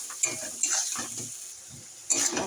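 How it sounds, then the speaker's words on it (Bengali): A paste of ginger and whole cumin is sautéed in a pan for a soybean curry, with a soft continuous sizzle and a few sharp scrapes of a spoon against the pan. "এবার একটু ভালো করে মশলাটা কষাতে হবে"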